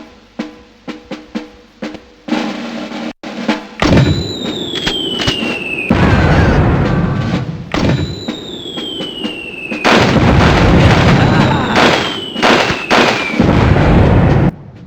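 Mortar fire and explosions in the 1998 Army Men video game: rapid light pops give way to repeated loud booming blasts, some with descending whistles before impact, dense and continuous with no talking.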